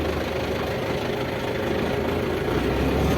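A new MTZ 82.1 tractor engine idles with a steady, even rumble that holds unchanged throughout, with no voices.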